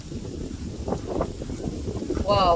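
Strong wind blows outdoors beside an open cooking fire, a low buffeting rumble pressing against the microphone throughout. A person briefly exclaims near the end.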